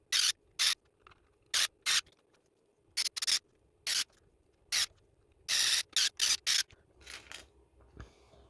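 Screws are driven into a 1/24 scale RC off-road trailer during assembly, making a string of short, sharp, whirring bursts with brief pauses between them, close and fairly loud with no talk.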